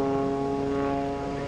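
An aerobatic propeller airplane at the 2016 Greenwood Lake Airshow drones steadily with a continuous, fairly loud engine hum that holds even throughout.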